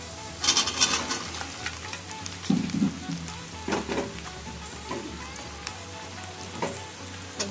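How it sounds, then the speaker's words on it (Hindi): Okra (bhindi) frying with onions for a Punjabi bhindi sabzi, a steady close sizzle punctuated by irregular spoon scrapes and clatters against the pan, no voices. "तो भिंडी डालकर हम इसको अच्छी तरह चला लेते हैं।"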